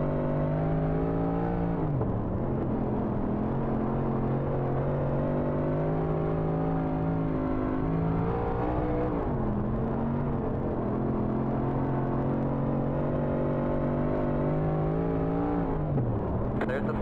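Modified 358 race cars circle Kern County Raceway Park in the iRacing sim, a loud steady engine drone with rising and falling pitch as the throttle lifts and reapplies through the corners, continuous throughout with no speech.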